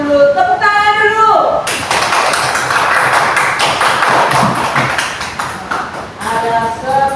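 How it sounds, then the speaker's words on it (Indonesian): A class of children claps together in a short burst between stretches of a teacher's speech, the patter of small hands close and lively in a classroom during a counting lesson. "Tepuk tangan dulu."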